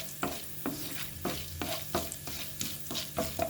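Okra (bendakaya) frying in a pan, stirred in a quick regular rhythm of about a dozen scraping strokes over a soft steady sizzle, close and clear, no talk.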